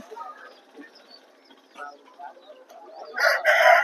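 At a rooster market in Vijayawada, faint clucks and background bustle give way to a Dega-coloured rooster's loud, close crow that bursts out near the end.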